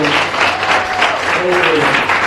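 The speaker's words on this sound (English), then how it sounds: "can you please help me put a round of applause for these beautiful" A crowd at a dancehall event led by Spice gives a loud round of applause for a group of women on stage, dense clapping and cheering blended with a voice over it.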